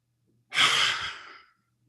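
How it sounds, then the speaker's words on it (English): One long, deep exhale during a breathing exercise, a breathy rush of air lasting about a second that slowly fades out, heard close and alone. "Big inhale up."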